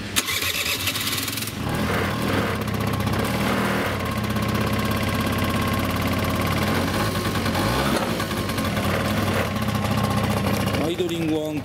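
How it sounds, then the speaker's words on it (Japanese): A Giorno scooter's small engine idles loudly and steadily for the whole stretch, a constant buzzing drone with slight uneven pulsing. "アイドリングは安定してるんです"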